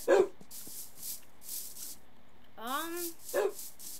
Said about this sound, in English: There's dogs around here, that's good.